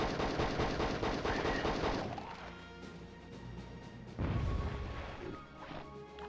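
A video-game clay machine gun lets off a loud, rapid burst of fire for about two seconds. Crashing, booming impacts follow at close range.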